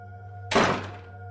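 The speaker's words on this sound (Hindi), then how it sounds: "विक्रम ने तुरंत दरवाजा बंद कर दिया" A door slams shut quickly in a horror setting, a single sharp thud with a brief rumbling decay over a steady low hum.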